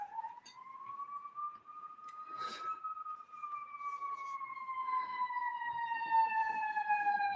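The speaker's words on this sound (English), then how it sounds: "there's going to be some sirens." An emergency vehicle siren wails outside, one long slowly rising and falling tone heard from a distance through a room, with a second siren tone joining partway and faint traffic rumble underneath.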